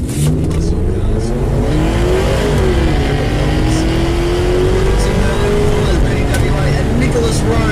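A junior dragster at a drag strip roars loudly and steadily, its engine note climbing and shifting for the whole run, while an announcer talks over the noise.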